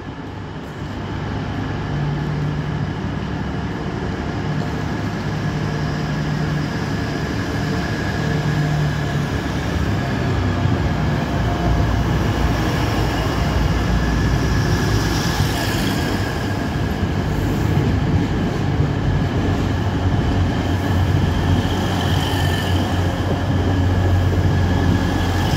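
A passenger train at Nottingham station pulls away, a loud steady rumble of engine and rolling wheels building over about twenty-five seconds, with faint high squeals from the wheels on the rails.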